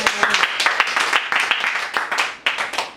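A church congregation at a Sunday service applauding in a dense, steady burst of clapping that fills the space for a few seconds, with a voice mixed in underneath.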